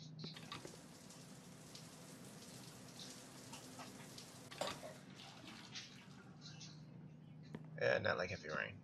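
Light rain in the Mafia 2 video game patters steadily and softly throughout, with a voice talking over it.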